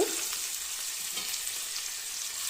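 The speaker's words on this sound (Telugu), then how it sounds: "తర్వాత మన మెయిన్ ఇంగ్రీడియంట్ గోరు చిక్కుడు గోరు చిక్కుడు కొంచెం వేసినాక" Cluster beans dropped into hot oil in a pan after turmeric, giving a loud, steady hiss of frying that runs unbroken and close throughout.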